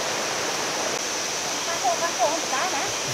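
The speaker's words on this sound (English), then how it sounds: "Khun Korn Waterfall, which is said to be the most beautiful and highest waterfall in Chiang Rai" Khun Korn Waterfall in Chiang Rai, a tall natural waterfall, gives a steady, loud rush of falling water, with a voice talking briefly over the roar.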